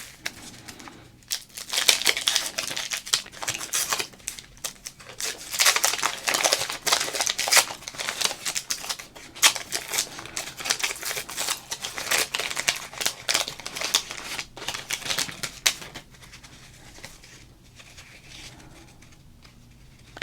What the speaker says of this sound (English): let's open up the next pack of cards and see what we can find